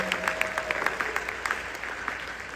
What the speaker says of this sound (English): Let's give them a round of applause for what they do each and every day.